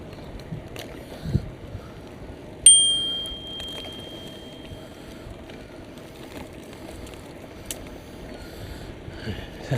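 A bicycle bell rings once, a bright metallic ding that hangs briefly over steady wind and outdoor background noise during a ride.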